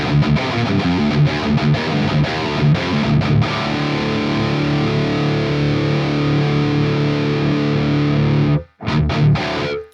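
Heavily distorted metal guitar through the ML Sound Lab AMPED Block Letter amp sim with preamp gain raised, played as loud, dense chugging riffs with palm-muted stabs, then a sustained crunch before a brief cutoff and final hits.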